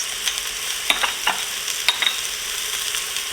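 Whole cumin seeds, peppercorns and curry leaves crackle in hot oil inside an Instant Pot for lamb pilaf, a soft steady sizzle broken by a few sharp clicks and pops, fairly quiet and without speech.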